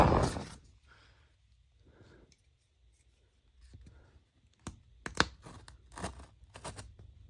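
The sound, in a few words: scissors cutting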